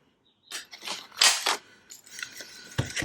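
Scissors snipping a small divot from the centre of a small piece of paper, with a few close, crisp cuts and rustles, then a sharper handling sound near the end.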